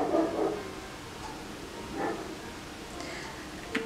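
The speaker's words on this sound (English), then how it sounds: "It's my dog." A pet dog barks at home, faint and somewhat distant: a few scattered short barks and yips over a steady background hiss.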